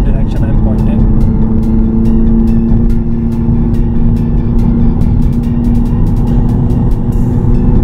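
Audi TT Coupe with Quattro all-wheel drive cornering, a loud steady engine drone and road rumble heard from inside the cabin, with someone talking over it.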